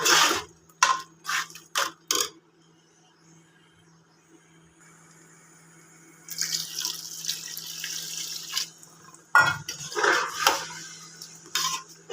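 Water splashes and streams from a tap into a pot holding gram-flour batter for kadhi pakora, with a few clinks of metal cookware and brief pauses between pours.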